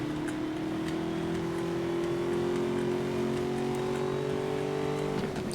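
A car engine in Need for Speed: Most Wanted (2012) climbs steadily in pitch during a sprint race, a sustained accelerating drone that drops sharply near the end as the gear shifts.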